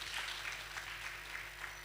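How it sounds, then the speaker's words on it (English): Faint conference audience clapping for a speaker at a plenary session, a brief, thin patter of applause heard at a distance. "Please, let's give Patricia another hand clap."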